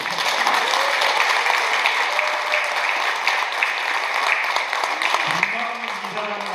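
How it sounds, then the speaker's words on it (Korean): Applause fills a hall at a savings cooperative's annual general meeting, a steady dense clapping from a large audience that tapers slightly near the end as a voice begins speaking over it. "동의하시면 박수 한번 쳐주세요."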